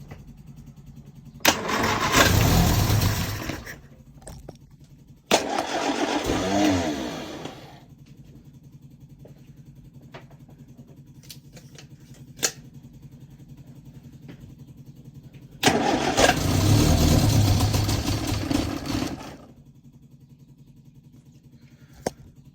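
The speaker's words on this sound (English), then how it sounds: "it's in neutral, see if it goes." A Lotus Elan engine with freshly worked carburettors, in neutral, cranks in three loud bursts of a few seconds each, catching briefly and trying to run between quieter pauses, recorded close up.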